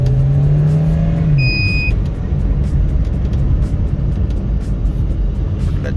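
A car with an overheating engine is revved steadily, a loud continuous engine drone close by with a rising pitch near the start, then holding a constant roar.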